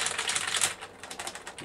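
Rapid tapping on an iPhone touchscreen keyboard, a dense run of quick clicky key sounds close to the listener, slightly slower in the second half, with no talking.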